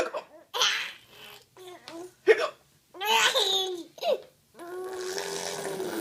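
Short, sharp hiccups from a baby break up bursts of giggling and babbling in a close, lively indoor exchange.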